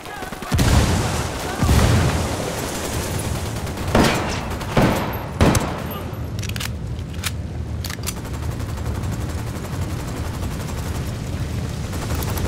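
A frag grenade goes off in the tactical shooter Ghost Recon Wildlands with scattered gunfire: several loud booming bursts come early, then sharper shots follow and the firefight fades to a steady background rumble.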